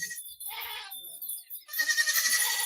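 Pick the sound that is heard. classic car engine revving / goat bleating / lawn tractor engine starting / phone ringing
goat bleating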